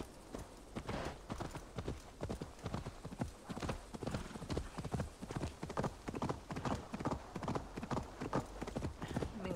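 Horse hooves clip-clopping in the video game Assassin's Creed Valhalla, a fast, steady rhythmic trot of sharp hoofbeats running continuously and fairly close throughout.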